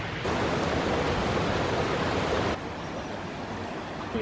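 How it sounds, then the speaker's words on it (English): Continuous rushing and bubbling water like a small waterfall at Bankfoot near Perth, Scotland, a broad steady hiss that drops slightly in level partway through. "you can hear in the background all the water bubbling back here"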